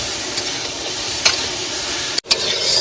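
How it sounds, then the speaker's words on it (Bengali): Marinated soybean chunks hit hot oil in a pan and sizzle loudly, a constant bright hiss with a few brief scrapes and clatters of stirring. "তেল গরম হয়েছে, এবার দিয়ে দেবো মাখানো সয়াবিন।"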